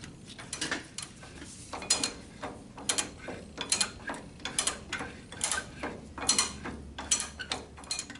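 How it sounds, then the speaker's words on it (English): Irregular metallic clicks and ratcheting taps of a wrench tightening a nut and lock washer onto a tractor steering seal, close by with no talk. "grab your lock washer, nut, and start tightening it down"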